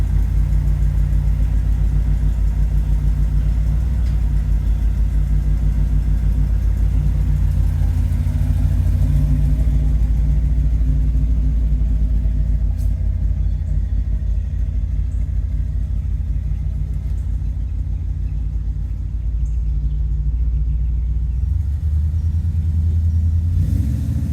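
A 1979 Corvette engine runs steadily with a deep, continuous rumble that stays close and loud for the whole stretch, with no voices over it.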